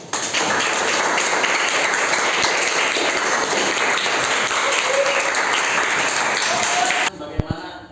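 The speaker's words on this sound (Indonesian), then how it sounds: "kita berikan aplaus" A classroom audience claps in sustained, dense applause for about seven seconds, ending abruptly.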